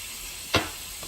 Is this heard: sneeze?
no